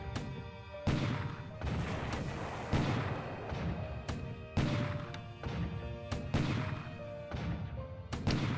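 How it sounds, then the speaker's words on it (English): Naval cruisers shelling Kendari in a World War II strategy game, December 1941: repeated heavy booming impacts and artillery blasts every second or so, loud and rumbling, one after another with no voices. "So we have bombardment of Kendari. It's like mostly cruisers here."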